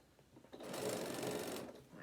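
A sewing machine runs in a steady whirring burst of about a second, stitching the side seam of a fabric bag, close and fairly quiet, with a short pause on either side.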